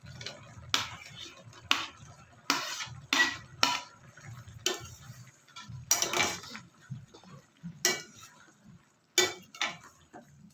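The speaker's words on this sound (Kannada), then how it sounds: "ಬಾಳೆಹಣ್ಣು ಹಾಕ್ಕೊಂಡು ಈ ಥರ ನೀಟಾಗಿ ಮಿಕ್ಸ್ ಮಾಡ್ಕೊಳ್ಳೋಣ" A spoon stirs banana into boiling syrup with chapati pieces in a pot for kalasu rotti, giving a string of irregular clinks and scrapes against the metal, close by and moderately loud.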